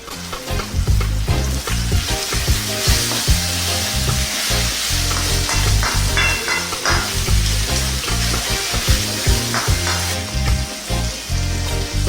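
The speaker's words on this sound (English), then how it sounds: "Let's kind of just cook away, get those onions and tomatoes nice and soft." Onions and tomatoes fry with a teaspoon of salt in a Sri Lankan home kitchen, giving a loud, continuous close-up sizzle with frequent stirring scrapes and clatter, no speech.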